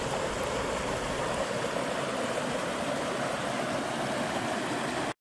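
Water rushing through a narrow crack in the canyon floor of the Zion Subway, a dense, continuous close-up roar of flowing water with no voices.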